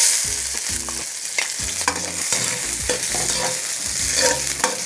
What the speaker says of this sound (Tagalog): Ngayong mainit na yung ating mantika, igigisa natin yung ating sibuyas.